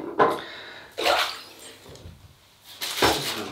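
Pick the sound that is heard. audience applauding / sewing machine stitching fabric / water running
water running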